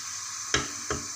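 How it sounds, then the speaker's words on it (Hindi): Meat frying with ginger and garlic in a pressure cooker is stirred twice, each pass giving a short scraping swish over a steady low sizzle, close and alone without any voices. "इसको चलाएंगे थोड़ा सा ताकि गोश्त की बिसान भी ख़त्म हो जाए और अदरक लहसुन भी वो हो जाए।"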